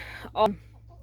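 A single short cluck from a chicken, close by and brief, over a low steady hum.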